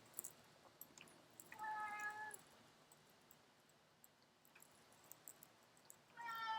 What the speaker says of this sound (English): I don't know if you can hear my cat in the background there,